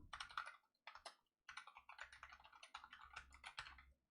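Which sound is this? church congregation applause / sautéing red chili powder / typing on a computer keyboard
typing on a computer keyboard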